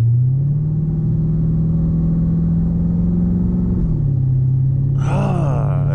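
A Dodge Hellcat at a drag strip, engine holding a loud, steady low drone as the tyres spin, then dropping in pitch near the end as a voice starts talking over it.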